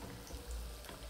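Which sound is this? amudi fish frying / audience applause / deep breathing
amudi fish frying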